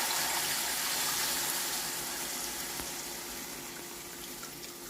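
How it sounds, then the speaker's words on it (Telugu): Tamarind juice pours into a pan of plantain curry, a steady soft gushing liquid sound that stays alone and gradually eases off as the pour continues. "ఇప్పుడు ఈ రసం తీసి పెట్టుకున్నాం కదా చింతపండు, అవి పోసేస్తున్నాను."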